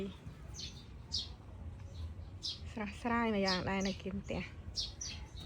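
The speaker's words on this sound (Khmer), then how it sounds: "វាឮសលេងចាប់យំធម្មជាតិ" Birds chirp in a home vegetable garden beside a house: scattered short tweets and one longer warbling call, moderately close, while someone talks over them.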